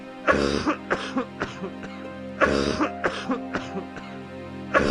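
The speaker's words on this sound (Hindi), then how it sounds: "तो क्या तब तक मैं खांसता ही रहूंगा?" Repeated harsh coughing fits, loud and close, several hacking bursts in a row with short gaps between them.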